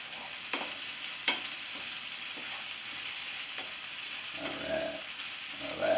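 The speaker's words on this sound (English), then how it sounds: "Give it a stir." Roast beef hash frying in butter in a pan, a quiet even sizzle with a few soft scraping stir strokes and small clicks, close but low in level, no speech.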